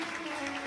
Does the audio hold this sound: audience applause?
yes